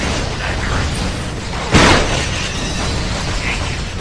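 Sticky shotgun pellets detonate in Ratchet and Clank Future: A Crack in Time, giving one sharp, loud burst near the middle of the clip over a steady wash of game noise.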